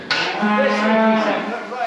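A single cow lets out one long, close, loud moo at a farm during cattle handling, a drawn-out bellow lasting well over a second with no talk over it.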